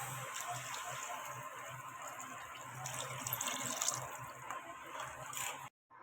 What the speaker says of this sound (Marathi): तर आपण आता हे पाणी टाकूया